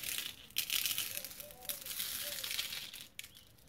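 Black crushed glass from IKEA is poured gently into a wooden tea tray, a close, gritty crunching and crinkling trickle that runs in uneven surges for a few seconds.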